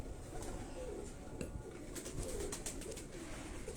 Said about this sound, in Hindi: ये कबूतर जरा थोड़ा सा बुरा मना रहे हैं